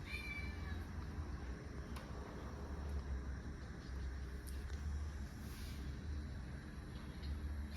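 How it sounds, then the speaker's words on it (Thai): A pet cat meows faintly and intermittently over a constant low rumble and background noise, without any talking. "แมวก็ร้องแมวเลยครับ"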